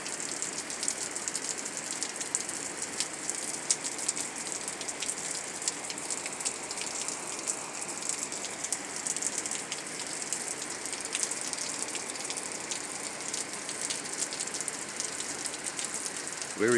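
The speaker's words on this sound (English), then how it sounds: "Very hot, steamy rain." Hot, steamy July evening rain patters steadily on surfaces, a dense even hiss of drops at moderate distance that runs unbroken throughout.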